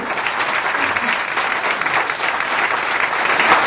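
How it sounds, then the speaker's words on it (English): Sustained audience applause at an awards ceremony, a dense, steady wash of many hands clapping with no gaps, loud and continuous throughout. "give them another round of applause, please"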